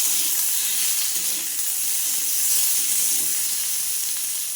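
Garlic cloves, onion pieces, sliced potato and tomato fry in hot oil for a Bengali prawn chachchari, giving a steady, dense sizzle that holds close and even throughout with no voices.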